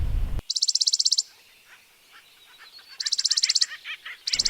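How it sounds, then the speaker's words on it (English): Acorn woodpeckers in oak woodland give loud, rapid rattling call bursts in three separate bouts, the first and second clear and close, with a third starting at the very end and scattered softer chatter between them. "We hear the distinct loud calls of acorn woodpeckers"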